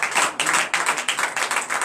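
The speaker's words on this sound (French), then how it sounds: "je vous demande d'applaudir très fort pour l'honneur et la gloire" A church congregation at a morning prayer service in Benin claps loudly and rapidly, a dense burst of hand claps that fills the room with steady, close applause.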